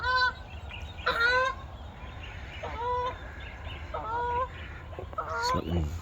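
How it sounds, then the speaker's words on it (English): Geese honk repeatedly in short bursts, some overlapping, at moderate distance over a low outdoor rumble. "the geese are still flying around making a fuss"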